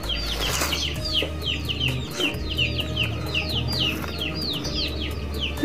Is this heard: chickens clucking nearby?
yes